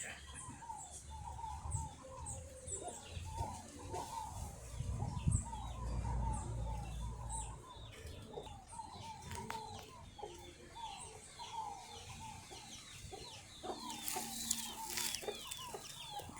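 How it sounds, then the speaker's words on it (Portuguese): A hen surrounded by chicks clucks while being fed in a yard in Teresina, Piauí, Brazil. Soft repeated clucks mix with chicks' high peeping throughout, with occasional handling noise and some background sound. "Galinha cheia de pintinho aqui dando comida a ela aqui me distraindo"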